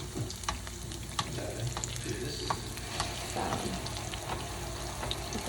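Ripe yellow plantain slices fry in a hot pan for Jamaican fried plantains, with a steady close sizzle and scattered crackling pops and stirring clicks throughout; a voice speaks briefly at the start.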